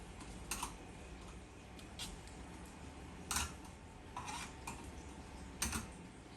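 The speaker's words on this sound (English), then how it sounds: "Now we want to turn these over, and we're gonna baste it on the other side." Jerk chicken pieces being turned over and basted with reserved sauce in a pan, with soft intermittent clinks and scrapes of a utensil against the dish over a steady low background hum.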